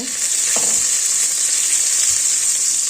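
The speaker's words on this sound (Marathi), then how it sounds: "हा लसूण मस्त तळला आहे म्हणजे तळला म्हणजे अजून पूर्ण ब्राऊन पण नाही झालं हलकासा तळला आहे" Garlic and chili pieces frying in hot oil for a crunchy puffed-rice chivda give a steady, close, loud sizzle that stays even throughout, with a faint clink partway through.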